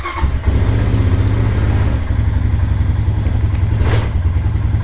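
An ATV engine cranks briefly on a newly replaced starter motor, catches and settles into a loud, steady idle with a throbbing low rumble, running close by with no talk.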